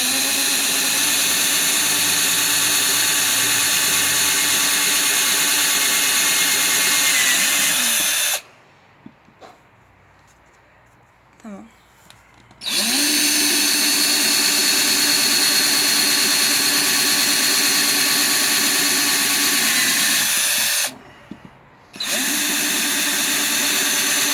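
A power drill bores drainage holes in the base of a terracotta clay pot, with a loud continuous whining drone that stops for a few seconds of near silence and then restarts, with another brief pause near the end.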